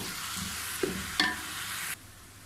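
Finely chopped tomato stirred into a colocasia (arvi) leaf and besan dish in a pan, a couple of soft scraping stirs over a steady low sizzle that cuts off abruptly.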